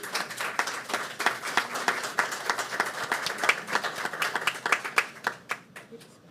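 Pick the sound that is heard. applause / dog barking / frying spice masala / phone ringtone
applause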